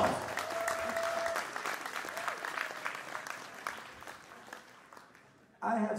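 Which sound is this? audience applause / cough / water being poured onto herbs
audience applause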